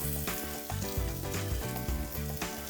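Diced carrots and baby corn hit a hot frying pan with garlic paste, giving a loud, steady sizzle that crackles continuously throughout without pause.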